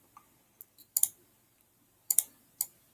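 Several sharp computer mouse clicks, alone in a quiet room: a single click, a pair, then a quick double click, and later another double click followed by one more click.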